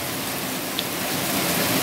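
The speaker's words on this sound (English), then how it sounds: "It's a rainy, rainy Sunday." Rain falls outside during a storm in Jamaica, a steady broadband hiss that stays even and fairly loud throughout, without voices.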